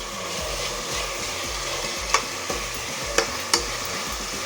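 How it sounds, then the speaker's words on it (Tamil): Tomatoes sautéing in a pan for vegetable brinji, a continuous soft sizzle with the scrape of stirring and a few sharp clicks of a spoon against the pan, no talking. "தக்காளி சேர்த்து நல்லா வதக்குங்க."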